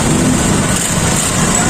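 After a wiring repair, the engine of a small service vehicle runs in a close, loud, steady buzz, an unbroken high drone with no speech heard.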